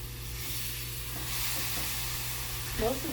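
Butter sizzles in a pan while shrimp and clams cook in a tomato-based sauce, giving a steady, moderately loud frying hiss, with a few soft scraping stirs near the end.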